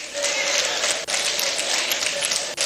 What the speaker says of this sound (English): You are clapping.